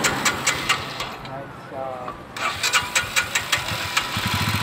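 A motorbike from West Bengal, met on the Kedarnath Yatra road trip, starts up and settles into a mid-pitched running rumble, with people talking nearby throughout.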